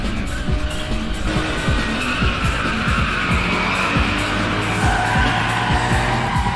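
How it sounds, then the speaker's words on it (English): A Mazda RX-7 FC and a Lancer Evo 3 corner hard in an anime street race, tires squealing and skidding over loud engine roar, continuous and close throughout. "The FC is cornering while blocking in the Evo 3."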